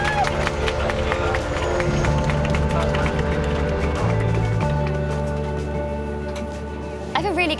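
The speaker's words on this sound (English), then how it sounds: "Big round of applause." Plane passengers clapping together in the cabin just after touchdown at Heathrow, a dense, steady patter of many hands mixed with engine drone and a few voices, tapering slightly near the end.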